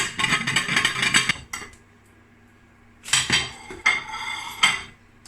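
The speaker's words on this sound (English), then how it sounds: "Put a plate on again and give it a shake." Powdered potatoes shaken in a bowl with a plate on top give two bursts of loud rattling clatter, like crockery knocking together, with a quiet pause between.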